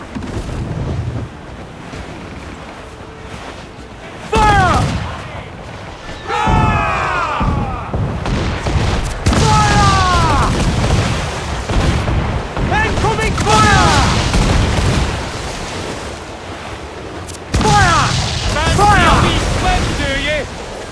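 Heavy cannon fire and explosions boom out in a pirate-era naval battle in Assassin's Creed Black Flag, with several loud blasts over waves and wind while crew voices shout over the fighting.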